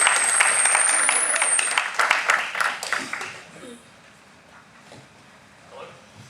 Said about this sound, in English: let's give a big round of applause for Brian Baker